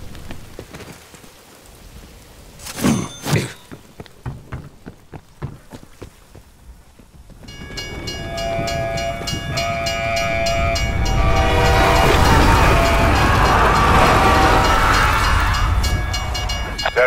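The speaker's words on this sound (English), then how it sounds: "There are several trains trapped in a loop through this station." Several trains loop through a station in the video game Call of Duty Black Ops Cold War, with a few rattling thumps giving way to a loud, sustained rumble and metallic screech of cars rolling past.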